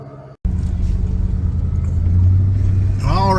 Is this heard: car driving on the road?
yes